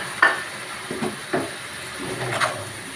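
Potato and pointed gourd fry in a pan as a ground masala paste goes in: a soft, continuous sizzle carries a few scattered stirring scrapes and clicks, close but fairly quiet, with no voices.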